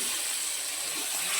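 Water is poured into a cooking pan, a brief, steady bright hiss and splash that holds close and even for a moment.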